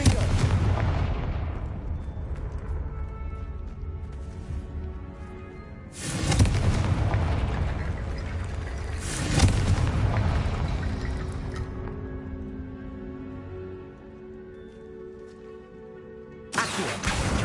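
Repeated Confringo fire-spell explosions in the Hogwarts Legacy video game, loud booming blasts with long rumbling decays, three or four big bursts spaced a few seconds apart over a continuous low roar.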